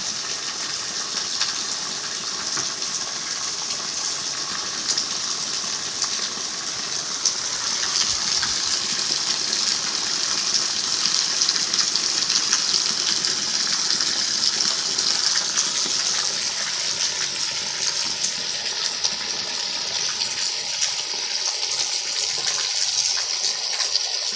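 Rainwater gushes steadily out of a farm field after heavy rain, a continuous loud rushing flow with no pauses from start to finish.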